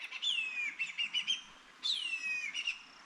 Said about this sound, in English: eagle finished screaming.